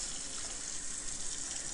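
Cold tap water runs steadily, rinsing soap off finely chopped collard greens in a kitchen, a continuous close gushing hiss with no talk.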